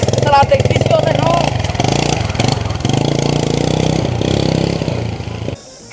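A motorcycle engine runs close and loud with a steady mid-pitched idle rumble. People talk over it, and the engine cuts out abruptly near the end.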